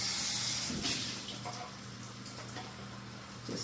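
Cauliflower and garlic sauteing in a pan while salmon cooks nearby, giving a steady broadband sizzle and hiss with a low hum beneath and a few faint clinks.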